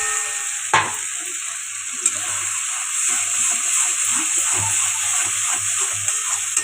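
Ground black cumin paste, made with salt, drops into hot oil in a pan, giving a sharp splash followed by a steady sizzle with occasional clicks, and a voice talks quietly over it.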